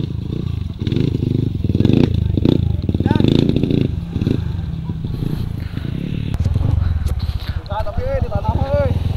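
Honda CRF bore-up motorcycle on a grasstrack circuit, engine droning and revving close by with clattering, while people talk over it throughout.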